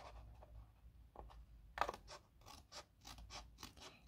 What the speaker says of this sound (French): Et là je viens couper donc mon petit mot.